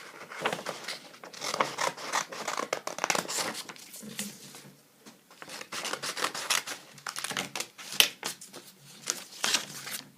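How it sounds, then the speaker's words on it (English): Scissors cut out a hand-drawn paper shape for a greeting card. Quiet, irregular snips and paper rustles come in clusters, close up and soft. "grab my scissors and I'm going to cut it out."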